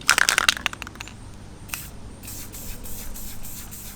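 Short bursts of aerosol spray paint hiss across a hybrid whip handle, several quick puffs up front followed by a steadier, softer continuous spray, close and fairly loud with no talking.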